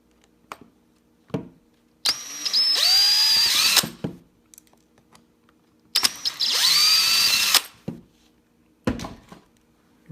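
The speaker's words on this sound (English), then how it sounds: "I'm going to get my little DeWalt. I know it's overkill. I'm going to start taking out these screws." A DeWalt cordless drill backs out screws in two sustained whirring bursts of about two seconds each, rising in pitch as it spins up, with short clicks and handling knocks in between.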